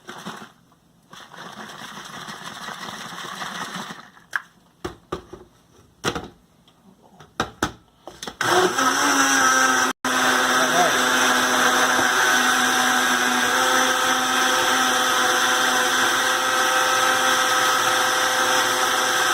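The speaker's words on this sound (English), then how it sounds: "My little Black & Decker handy blender." Small Black & Decker handheld blender frothing keto coffee in a sealed container: a few short stuttering bursts give way to a loud, steady, continuous whir that runs for the rest of the time.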